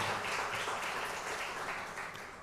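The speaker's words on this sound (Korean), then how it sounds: "우리 축복의 박수 다시 한번 보내시기 바랍니다" A church congregation at a Sunday afternoon service gives sustained, dense applause, a continuous wash of many hands clapping at moderate distance with no voices over it.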